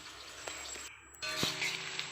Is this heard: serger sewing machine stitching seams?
no